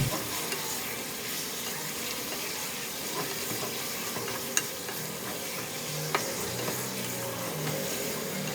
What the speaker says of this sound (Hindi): तो ये अभी बग़ैर अदरक लहसुन डाले गोश्त भून रही थी मैं